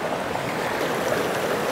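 A small mountain river in the Colorado backcountry rushes steadily nearby, a constant broadband wash of flowing water with no voices over it.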